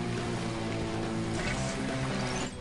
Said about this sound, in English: Who tries flushing an air mattress down the toilet?